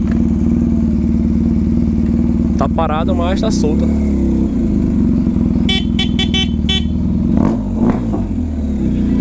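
A Miliduke motorcycle with a straight exhaust pipe idles in a steady, loud, rumbling drone throughout, with short tonal beeps mixed in. Someone talks over the engine nearby.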